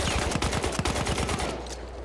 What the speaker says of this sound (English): Shooting me from behind.